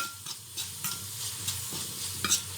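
Basella mash frying in a pan with tomatoes, a soft steady sizzle with scraping stirring strokes at intervals and a sharper clink at the end.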